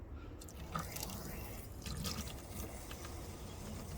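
Garden hose water flushes through a first-generation Cummins heater core and drips and trickles into a bucket, a steady close splattering with scattered drops and no talking.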